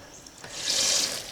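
Water hisses and sprays from a valve being cracked open on an eight-acre rural property, a soft broadband rush that swells over the last second, close by with no talk.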